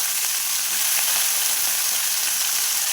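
Onions and shallots frying in a pan, a loud, steady, close hiss of sizzling oil with no voices.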